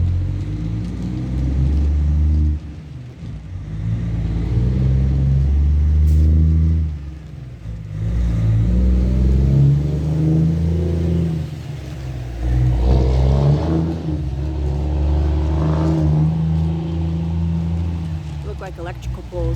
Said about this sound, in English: There's a loud logging truck.